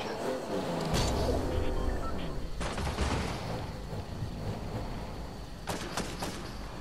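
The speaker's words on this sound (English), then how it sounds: "Hey now, who's shooting me?" Fortnite gunfire: sharp bursts of rapid shots crack out in clusters near the start, around the middle and again at the end, over steady background game noise.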